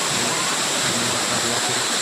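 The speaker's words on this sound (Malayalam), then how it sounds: "ചെറിയൊരു വെള്ളച്ചാട്ടമാണ്" A small waterfall in Kerala gives a steady, close rush of falling water that fills the short stretch without any break.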